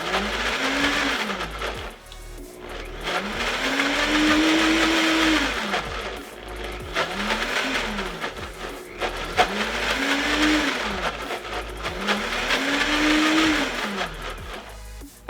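A food processor grinds basil pesto in loud continuous bursts, its motor pitch sweeping up and down with each pulse as the blades churn the thick green mixture, sustained for the whole stretch.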